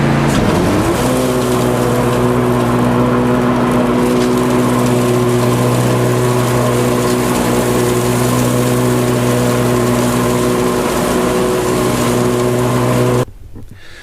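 Lawn tractor engine droning steadily at close range while driving in a straight line and pulling a cheap homemade leaf bagger for garden leaves, a loud continuous hum that cuts off abruptly near the end.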